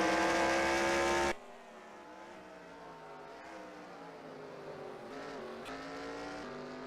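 Stock cars in a racing video game pulling off pit road, a loud engine roar that cuts away abruptly into a steady layered drone of several engines rising and falling in pitch.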